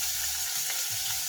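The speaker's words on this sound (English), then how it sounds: "I'm going to put white onion in first." White onion hits a smoking-hot buttered pan for seafood noodles, giving a brief, loud, steady sizzling hiss up close, with no voices.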